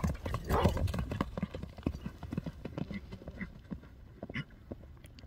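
Horse hooves clip-clop in quick, irregular beats from a strong horse moving among a crowd of riders, moderately close, with light crowd noise and a faint whinny.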